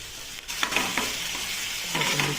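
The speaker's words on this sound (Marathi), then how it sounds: "त्याला पण तेलामध्ये परतून घ्यायचं" Chopped garlic and capsicum sauté in hot oil, a soft close sizzle under a few scraping stirs of a spoon against the pan, with no voices.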